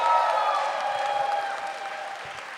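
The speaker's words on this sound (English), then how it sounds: "Ladies and gentlemen, start clapping your hands" Audience applause and cheering at a Power Rangers convention panel, a steady wash of clapping with whoops and shouts mixed in, fairly loud and slowly easing off.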